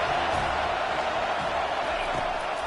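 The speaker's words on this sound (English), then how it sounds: "how nice is it to have the home crowd going absolutely bananas?" Home crowd at a college football game roaring loudly, a dense, sustained wash of cheering and noise filling the stadium without letup.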